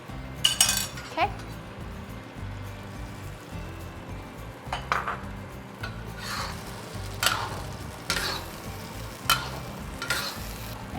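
Beef and tomato stir fry with cornstarch sauce being stirred in a hot pan, with sizzling under repeated scraping and clinking of a utensil against the pan at an irregular pace.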